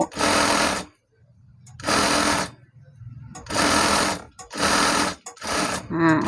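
A sewing machine hems the folded sleeve end of a stretch-fabric dress in several loud, close bursts of rapid stitching, separated by short pauses with faint low hum.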